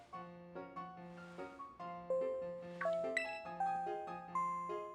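Ding-dong school chime from the video game Pokemon Scarlet and Violet: a bright, clear sequence of bell-like tones ringing in a stepped melodic pattern over a steady low tone, loud and alone for about five seconds.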